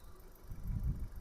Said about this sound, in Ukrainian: Мотор працює тихо, рівно, взагалі без зауважень.